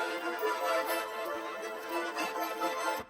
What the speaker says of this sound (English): So what I did, I put on Stretch Pro, and then I made it sound like this.